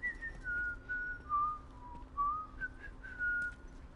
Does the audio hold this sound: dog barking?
no